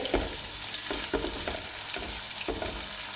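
Green chili paste being stirred into mixed vegetables (potato, carrot, peas) in a pan, with repeated scraping stir strokes over a steady sizzle, close and moderately loud.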